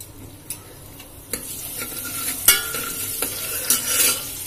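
Onion is stir-fried in hot oil with asafoetida, mustard seeds and cumin, a steady soft sizzle broken by sharp, intermittent scrapes and clicks of the stirring spoon against the pan.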